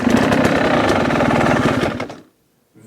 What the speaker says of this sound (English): I can actually drag the bike in idle